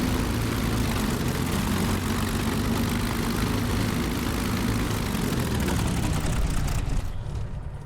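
A Bf 109G-6 fighter's propeller engine runs loudly and steadily in a flight simulator game, a droning roar that dips slightly at the very end.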